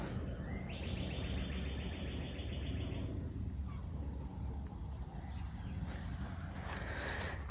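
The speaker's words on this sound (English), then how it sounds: "I just love the peace of listening to the birds and the frogs and the crickets." Wild birds chirp and call in woods beside a lake, with a steady insect-like trill partway through over a continuous outdoor hum.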